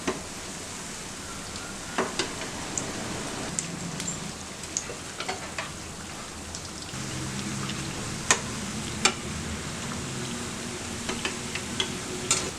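Sweet bonda dough balls deep frying in hot oil give a steady, dense sizzle with scattered sharp pops and crackles throughout, close and moderately loud, with no voices.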